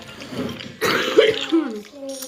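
A single rough cough or throat-clearing bursts out close by, followed by a short voiced grunt, against quiet background.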